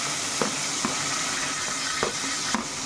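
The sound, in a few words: onion sizzling and crackling in hot oil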